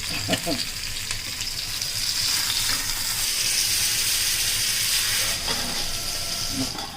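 Steady broadband sizzling and hissing of fish frying in hot oil, continuous and close throughout, with faint voices murmuring underneath.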